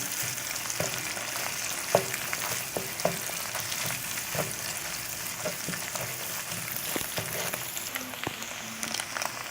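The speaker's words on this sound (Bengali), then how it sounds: "এ পর্যায়ে আমি ডিম দুটো দিয়ে দিচ্ছি।" Two eggs fry in a pan for chicken and egg mixed noodles, giving off a steady bright sizzle with scattered clicks and scrapes of stirring throughout.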